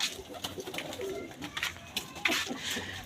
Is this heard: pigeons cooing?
yes